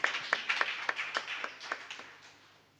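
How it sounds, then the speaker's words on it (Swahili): Congregation clapping during a church service, a quick series of sharp claps that fades over a few seconds, fairly faint and distant with no talk over it. "Tumpigie makofi mazuri."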